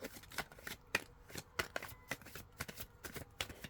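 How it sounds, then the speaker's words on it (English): Quiet, close riffling and flicking of tarot cards being shuffled by hand, in quick irregular bursts. "Is this how you shuffle?"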